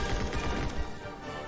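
Bursts of gunfire from an action video game trailer in the style of Max Payne, with aerial gunplay, come as dense, loud, rapid overlapping shots across a brief stretch.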